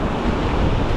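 Ocean waves wash up on a beach during an afternoon walk, a continuous broadband rush of surf and wind buffeting the microphone.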